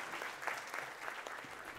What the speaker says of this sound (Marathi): जोरदार टाळ्या पुन्हा एकदा